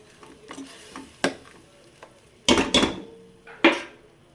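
Channa masala being stirred in a hot pan, soft sizzling under a few sharp spoon clanks and scrapes against the metal, close up with no voices.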